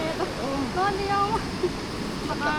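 Stream water rushes in a steady hiss during a river crossing on a nature trip, heard beneath people talking nearby.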